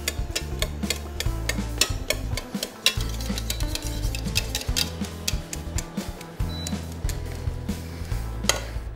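Potatoes being mashed in a saucepan over low heat for aligot, giving steady scraping and clinking of a masher against the metal pot in a busy, repetitive rhythm, close and continuous with no talk.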